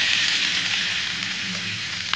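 Pork frying in a wok, a dense continuous sizzle with crackling spatter, close and steady throughout.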